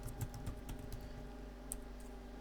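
Someone types on a computer keyboard while entering a title in Power BI: a quick run of soft, irregular key taps over a steady low background hum.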